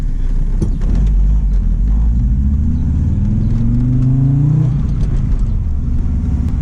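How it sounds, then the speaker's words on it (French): Five-cylinder engine of an Audi coupé GT revving up and easing off, a steady close rumble with a rising then falling drone, heard alone without talk. "ce bruit caractéristique du 5 cylindres"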